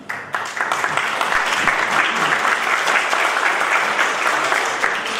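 Audience applause welcoming a professor at a press and post-truth conference, a sustained, even roar of clapping rising quickly and holding steady for about five seconds.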